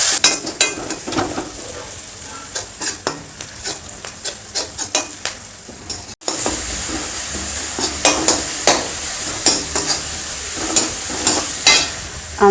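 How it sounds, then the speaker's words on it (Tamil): Onions sizzle loudly in hot oil, stirred often while frying until golden, with steady crackling and frequent scraping sounds from start to finish. "வெங்காயம் நல்லா பொன்னிறமாக வதங்கணும்."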